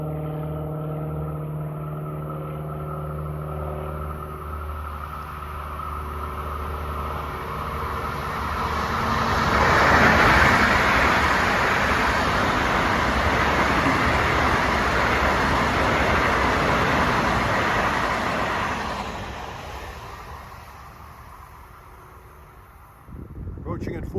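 An LIRR commuter train, Ronkonkoma to Penn Station on the Ronkonkoma Branch near Hicksville, approaches with a low engine tone, then roars past with a loud sustained rush and clatter of cars before fading as another sound starts at the end.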